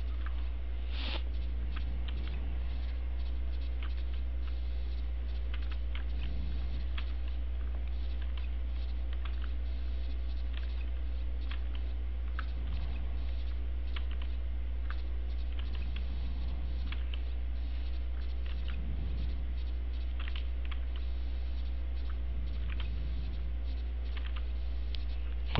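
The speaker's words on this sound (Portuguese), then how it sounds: "Eu aqui na chuva." Rain patters in the Game Boy Color game Harvest Moon GBC, with a continuous soft chiptune hiss and faint ticking patter over a low steady hum, and a muffled swell returning every few seconds.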